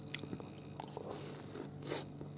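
Crispy fried chicken karaage is bitten and chewed up close, giving faint, repeated crunches and soft mastication over a low background hum.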